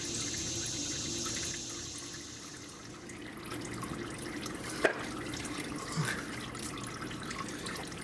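Oil draining out of a Toyota RAV4 oil filter gives a steady trickling, liquid pour in a garage setting, faint and continuous with a couple of small knocks partway through.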